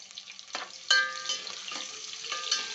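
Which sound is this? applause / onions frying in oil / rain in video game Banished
onions frying in oil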